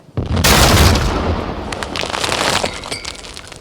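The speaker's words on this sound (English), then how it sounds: "As an explosion rockets Spellpan Pete out of his dimensional rift door onto the deck as he tumbles." A sudden loud crashing burst with glassy breaking texture marks an explosion effect during a pirate tabletop role-playing session, decaying into a rumbling tail over a few seconds with no talk over it.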